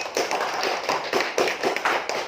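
Classroom clapping for a student named Alvin after he reads aloud: a handful of hands striking in a steady, fairly quick rhythm, moderately close and without talk.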